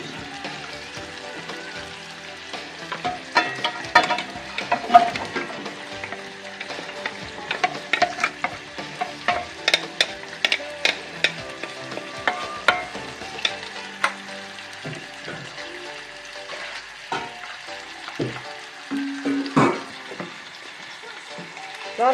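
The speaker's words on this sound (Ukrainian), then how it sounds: "Буду висипати і смажувати овочі." Vegetables sizzle and crackle in hot olive oil in a saucepan, with scattered pops and occasional stirring clatter over a steady frying hiss.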